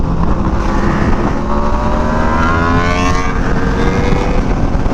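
An Aprilia RSV4 Factory superbike V4 engine revs up at a nighttime car meet, a loud, near, sustained whine rising in pitch over a steady rumble, with no voices.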